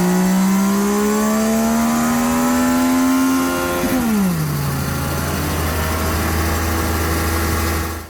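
A 2021 Yamaha MT-09 three-cylinder engine rated at 119 horsepower on a dyno, loud and close: its pitch climbs steadily for about four seconds, then drops sharply and settles into a steady lower drone.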